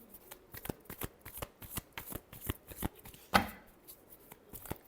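Tarot cards are shuffled in a quick series of crisp riffling slaps and flicks, close and fairly quiet, with one sharper snap partway through.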